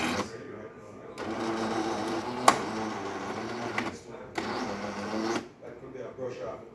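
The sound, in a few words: machine running a rinse cycle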